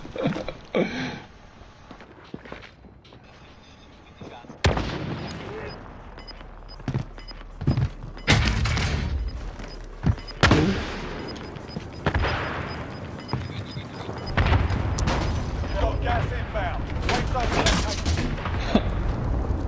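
Heavy gunfire and explosive booms in the Call of Duty: Modern Warfare video game, loud bursts and blasts coming thick and fast, with game voices and a player talking over the action.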